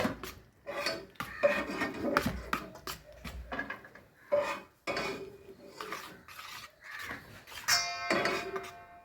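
Food being stirred and mixed back and forth in a pot while cooking kai pola, giving repeated close scraping and rubbing strokes of a utensil against the pot in an irregular rhythm.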